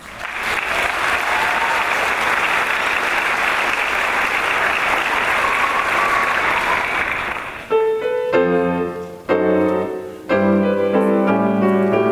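Audience at a children's choir concert in Southwest Missouri gives a loud, sustained round of applause, steady clapping for several seconds before piano music starts and takes over.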